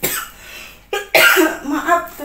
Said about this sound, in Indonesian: Maaf teman-teman ya, aku batuk.